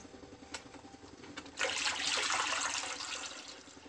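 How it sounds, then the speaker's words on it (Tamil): Water poured into a pot of tamarind dried-anchovy fish curry, a brief rushing splash starting midway and continuing steadily, following a few faint clinks. "கொஞ்சம் தண்ணி சேர்த்துக்கலாம்."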